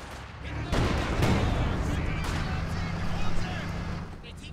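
In a competitive World War II strategy game match, an anti-tank gun and other weapons fire on infantry, with booming shots and scattered gunfire beneath steady talk from a commentator.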